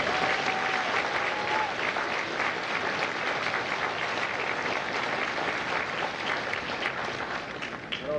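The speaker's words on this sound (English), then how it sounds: "please join me in a well-deserved round of applause for the drill instructors and families of Bravo" A large audience applauds at a U.S. Marine Corps recruit graduation at MCRD San Diego, dense, sustained clapping that stays loud throughout and begins to fade slightly near the end, with a faint crowd murmur underneath.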